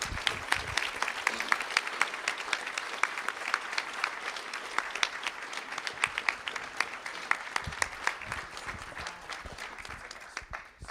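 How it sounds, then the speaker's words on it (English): School board meeting audience applauding, a steady round of many hands clapping for about eleven seconds with sharp individual claps standing out, gradually thinning toward the end. "Let's give them a round of applause."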